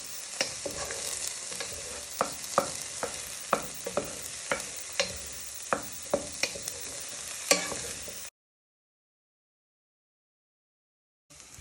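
Red onion and garlic fry in a pan for spicy rice, giving a steady close sizzle punctuated by regular sharp stirring scrapes and clicks, before the sound drops out abruptly into silence near the end.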